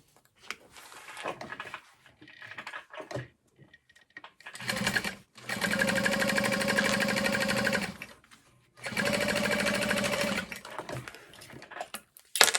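A sewing machine stitches a vinyl strip onto a Flair crossbody bag in two long, steady runs, with quiet handling noises and pauses before and between them.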